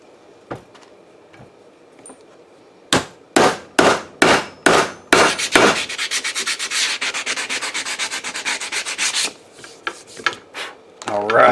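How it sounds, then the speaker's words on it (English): Scattered scrapes open into a quick run of sharp rasping strokes of sandpaper on machete handle pins, then a long stretch of steady, fast scrubbing close up, ending in a few uneven strokes. "and then I sanded them, and then I went over them with some sandpaper"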